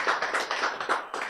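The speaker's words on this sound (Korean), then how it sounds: "박수!" An audience at a health lecture claps together, short rhythmic bursts of hand claps at a steady beat, close and moderately loud for just over a second.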